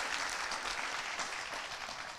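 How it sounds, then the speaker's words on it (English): An audience at an award ceremony honoring students on Gwinnett County's inaugural Jimmy Carter Day gives a round of applause, a continuous wash of many hands clapping that fades a little toward the end. "Let's give them all a round of applause again."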